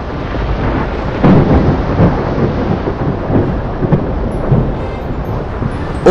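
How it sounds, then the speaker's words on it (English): A violent storm at sea with rolling thunder and heavy rumbling, rain and wind roaring steadily and loudly throughout, with a few louder cracks standing out. "A deadly storm is approaching."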